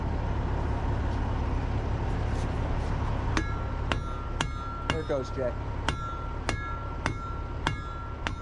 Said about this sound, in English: There's the big hammer.